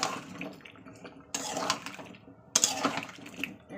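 Meat and chopped papaya being stirred in a cooking pot, with quiet scraping and wet shuffling in a few separate bursts, close and fairly soft with no voices.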